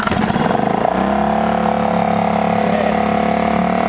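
A gas outboard boat motor fires up after a pull start, with a rough sputtering catch that settles into a loud, steady running drone close by.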